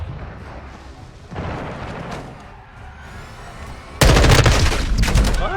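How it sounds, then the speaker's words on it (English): In a video game, a flash grenade detonates with a sudden loud, harsh blast that cuts through the earlier muffled gunfire and battle rumble, then rings on noisily. "Flash grenade."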